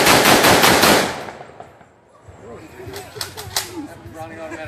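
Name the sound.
Browning automatic rifle firing a burst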